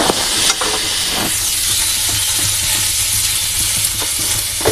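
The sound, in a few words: stirring turmeric into frying food in a pan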